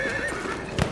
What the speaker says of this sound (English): There's a horse here.